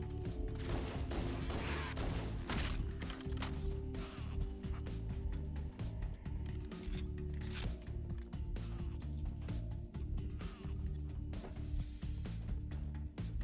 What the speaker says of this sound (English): I just really, really like that plasma pistol